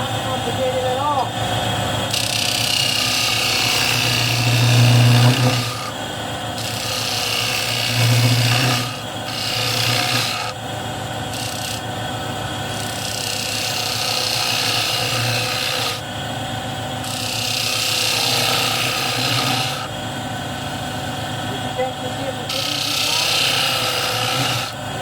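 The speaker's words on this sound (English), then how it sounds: "So I'm going to use a 1/2 inch bowl gouge, and I'm just going to go in" Half-inch bowl gouge cutting the rim of an ash bowl on a wood lathe, scraping and rasping in repeated passes with brief pauses, steady motor hum beneath.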